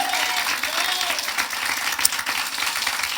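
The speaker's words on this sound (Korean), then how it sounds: "살아계시고 역사하신 우리 하나님께 박수로 영광 돌리겠습니다" Church congregation clapping together at a Sunday morning worship service, a dense, even wash of applause that runs steadily throughout with a faint lingering tone at the start.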